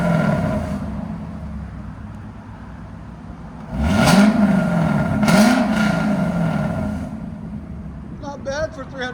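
A Lexus IS 500 with its 5.0L V8 and an inexpensive Alibaba axle-back exhaust idles, then gets two sharp revs that bark up and fall away, with people talking over the idle.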